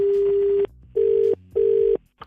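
A telephone line tone sounds after a hung-up call: three loud, steady beeps, a long one followed by two shorter ones with brief gaps between them, alone and close.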